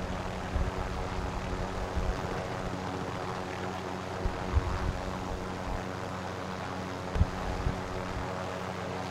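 A damaged, smoking helicopter in a shooter video game drones with a steady low engine and rotor rumble, punctuated by a few sharp thuds, with no talking over it.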